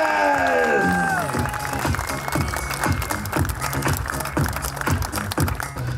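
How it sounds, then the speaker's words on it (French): Spectators in the Cluses town centre applaud and cheer cyclist José Luis Rodriguez at a Tour de l'Avenir stage finish; sustained crowd clapping and cheering run throughout, with a falling horn-like tone at the very start. "Écoutez de nouveau les applaudissements du public de Cluse pour José Luis Rodriguez"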